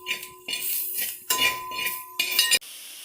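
Duck masala for a Kuttanad-style Kerala duck roast is stirred and sautéed in a metal pan, as four bursts of scraping and clinking spoon strokes separated by brief pauses end abruptly, with no voices.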